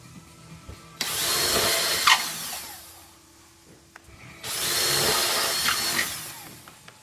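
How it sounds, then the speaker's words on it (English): A power drill drilling into a ceiling whirs in two sustained bursts of a few seconds each, separated by a short pause, loud and close with grinding, hissing texture. "as you're drilling into the ceiling, just hold on to that"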